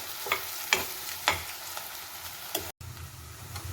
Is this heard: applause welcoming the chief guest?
no